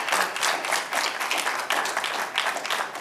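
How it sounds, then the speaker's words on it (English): A studio audience at a climate change town hall applauds, a close, dense burst of many hands clapping that stays strong and steady throughout. "Let's give them a round of applause, folks."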